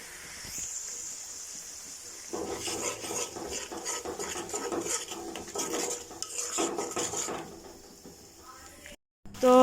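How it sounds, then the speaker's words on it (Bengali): Spices and potatoes are stirred in a pan, with a metal utensil scraping and clinking against the pan in a busy, uneven rhythm before it fades toward a quieter stretch. "দিয়ে ভালো করে নাড়াচাড়া দিয়ে কষায় নিয়ে তারপর হচ্ছে সয়াবিনগুলো দিয়ে দিব।"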